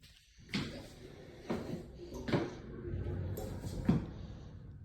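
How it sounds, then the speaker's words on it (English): A smooth-rolling glass shower door in a house slides open and shut several times, giving soft low rumbles with light knocks at the ends of travel, close by and fairly quiet. "And a very smooth rolling glass shower door."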